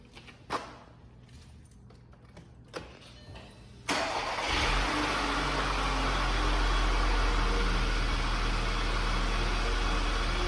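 A car engine cranks and catches after an oil change, preceded by a few clicks and key jangles, then settles into a loud, steady idle close by without any talking.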